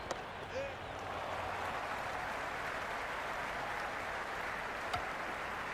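A large crowd in a cricket video game, Cricket 26, roars and applauds continuously at a distance, a dense wash of cheering with no pauses during an Australia vs Pakistan T20 match.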